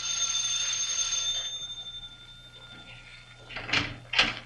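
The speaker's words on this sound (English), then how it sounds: "First, I rang the bell." A doorbell at a club door in a 1945 radio mystery drama rings in two bright, close strikes near the end, after a stretch of steady tonal hum and quiet room noise.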